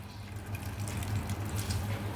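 Grated bottle gourd squeezed by hand to press out its water, giving a soft, steady wet trickling and dribbling of liquid close by, with no voices.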